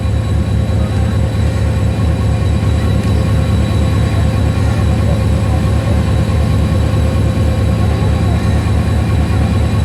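A train rumbles loudly and steadily at Landhi railway station in Karachi, a close, continuous low drone of engine and carriages with faint humming tones above and no voices.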